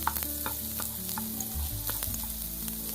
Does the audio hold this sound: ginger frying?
yes